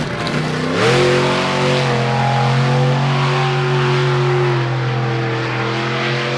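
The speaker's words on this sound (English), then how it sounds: "Out on the track right now, it's Josh Gibson in the retro Bigfoot truck." Bigfoot 14, a monster truck wearing the retro Bigfoot 1 body, revs loud and close while drifting around the infield at the Fall 4-Wheel Jamboree Nationals in Indianapolis, the engine climbing sharply and then holding a steady, sustained roar.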